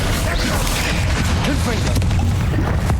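Bombarda explosion spell cast in Hogwarts Legacy amid a busy combat mix, dense booms and crashing impacts layered with other spell effects, loud and continuous over the three seconds with no talk.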